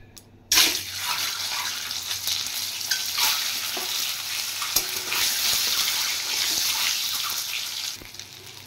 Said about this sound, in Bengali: এবার আমি ভেজে নেব ডিম।